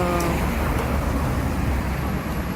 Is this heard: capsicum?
no